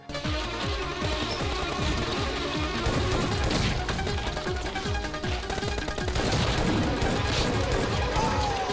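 Game gunfire and explosive bursts in PUBG Mobile Lite, with a thrown bomb bouncing back off a wall amid dense, loud, continuous combat noise, rapid shots and crashes throughout, with background music.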